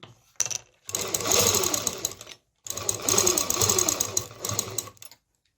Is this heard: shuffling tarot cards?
no